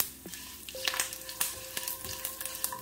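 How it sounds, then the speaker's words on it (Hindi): Six to seven garlic cloves with two dried red chillies frying in oil in a pan over medium-low heat for a tomato onion chutney, a soft steady sizzle with scattered crackles and the clink of stirring, no talking. "मिक्स करके 10 से 15 सेकंड के लिए फ्राई कर लेंगे।"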